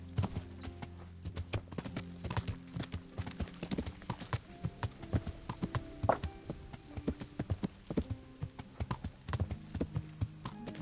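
Horse hooves clip-clopping in the video game Kingdom Come, a quick, steady run of crisp hoof knocks continuing throughout at low volume.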